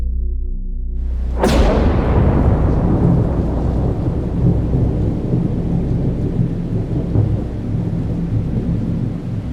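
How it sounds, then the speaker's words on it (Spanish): Heavy rain pours steadily after a sudden loud thunderclap that rolls and rumbles on for several seconds, with a broad low roar beneath the constant patter. "La lluvia no paraba y los truenos distantes no me dejaban dormir."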